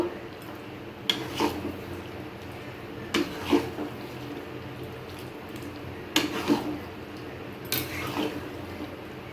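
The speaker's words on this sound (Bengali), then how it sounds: "চিকেনগুলো দিয়ে একটু ভালো করে কষিয়ে নেব।" Chicken pieces stirred and fried in a pan on a home stove, a low continuous sizzle punctuated by several spatula scrapes and clanks against the pan.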